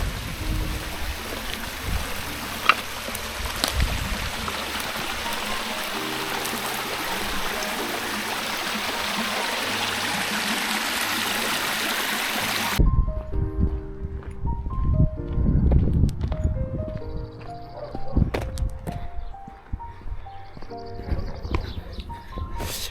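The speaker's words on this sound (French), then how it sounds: "Ah, petit ruisseau là." A small stream in the Cognac countryside near vineyards flows with a steady wash of water, later giving way to quieter trickling among scattered footsteps and movement noises.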